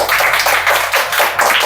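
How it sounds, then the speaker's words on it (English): An audience at a school spelling bee claps for a young contestant, loud close rhythmic clapping in uneven bursts throughout. "Claps for Tamanna."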